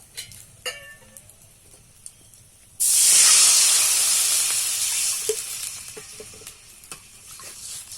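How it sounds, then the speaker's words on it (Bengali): Water poured into hot tempering oil while making dhokla erupts into a sudden loud, bright hissing sizzle that slowly settles into a softer steaming crackle after a quiet start. "জল দিয়ে দেবো"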